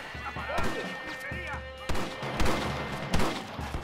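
Gunfire in a Red Dead Redemption shootout: a few sharp, punchy shots crack out at irregular intervals over a rumbling game background, with a voice speaking between them.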